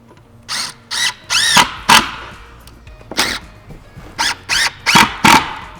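A power drill drives screws through pre-drilled holes in the side panels of a Shaker-style diagonal corner wall cabinet, in a string of short, loud whirring bursts with rising pitch sweeps, separated by brief pauses.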